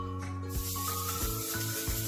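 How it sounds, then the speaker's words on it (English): Coconut oil cooking spray hisses into a skillet on a stove set to medium-high heat, a steady close spray starting after a brief pause and running to the end over continuous background tones. "I'm going to spray some coconut oil in my pan."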